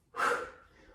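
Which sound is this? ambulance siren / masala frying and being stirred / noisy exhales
noisy exhales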